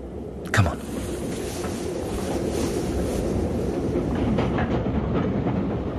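A passenger train runs on its rails, making a continuous rumbling roar with faint rhythmic clatter. A sharp knock comes near the start, then the sound holds steady and fairly loud with no talking.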